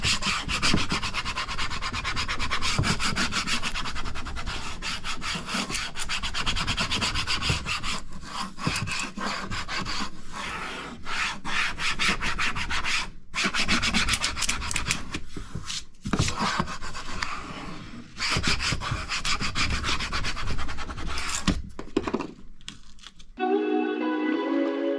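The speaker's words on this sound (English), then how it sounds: "take the squeegee tool again and squeegee it down and then peel it off" A squeegee tool rubs a sign stencil flat onto a board in continuous close, scratchy rubbing strokes with brief pauses, ending in a short peeling rustle, with no talk.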